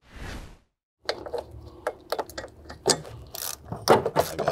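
Ratchet loosening a 10mm bolt on the battery shield of a Mk5 VW Golf GTI, a close run of quick, uneven clicking bursts after a brief hiss and a pause.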